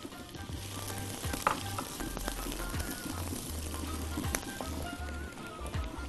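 Onions sizzle and fry in hot ghee, a steady soft crackle with occasional sharper pops and a low stirring scrape, close and moderately quiet with no talking.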